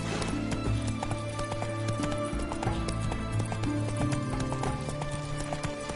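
Steady clip-clop of Roach, Geralt's horse, trotting in The Witcher 3: Hearts of Stone, rhythmic hoofbeats close and continuous over a low ambient bed, no talking.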